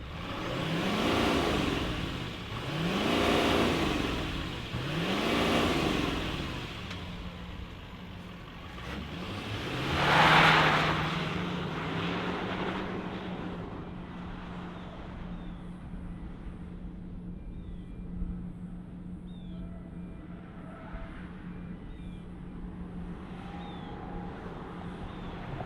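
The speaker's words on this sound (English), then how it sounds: "let's fire it up and hear all those diesel sounds" A 2025 GMC Sierra 3500 Denali with the Duramax diesel revs a few times in rising and falling swells, then settles into a steady low, even idle heard up close outdoors.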